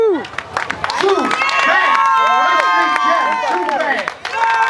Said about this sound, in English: Big round of applause for Xavier